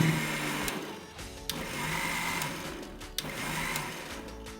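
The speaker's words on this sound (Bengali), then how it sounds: "এবার আরো একটু গ্রাইন্ডিং করে নিন" A kitchen blender grinds homemade mango juice with a steady whirring motor that drops and surges in short pulses, loud and close, with no talking.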